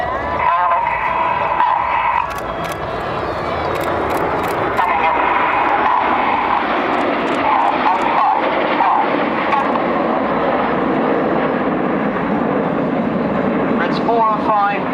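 RAF Red Arrows jets in close display formation at an air force show roar steadily overhead, a loud continuous jet rush with a commentator talking over it throughout.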